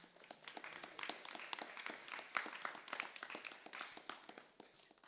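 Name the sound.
audience applause for the pujaris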